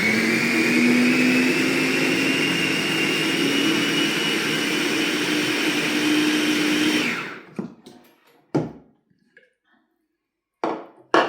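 Blender running steadily to puree pesto genovese with oil, a loud continuous whirring motor that cuts off after about seven seconds, followed by a few faint clicks and knocks.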